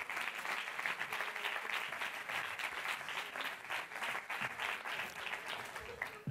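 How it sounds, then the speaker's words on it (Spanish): Sustained applause from a crowd fills the hall at a film festival closing gala as an award is handed over, steady dense clapping throughout with a brief voice or two underneath. "Un fuerte aplauso para él"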